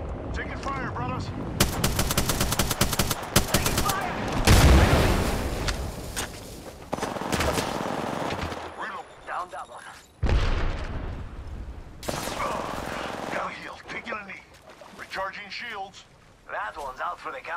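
Enemy gunfire rattles through an Apex Legends match, with rapid automatic bursts and heavy shots filling most of the stretch, loud and dense, while a player talks over parts of it.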